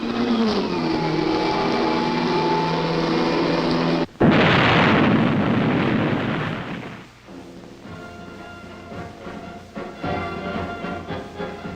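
A Regulus missile is fired from a submarine: a sudden loud burst swells into a broad rushing roar that fades over several seconds, with a lower mechanical rumble continuing afterward.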